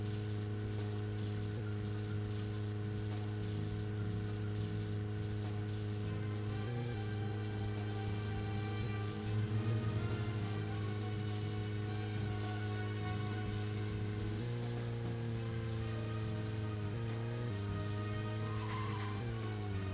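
Steady rain in a video game hisses throughout beneath a constant humming, engine-like drone, with no speech and little change over time.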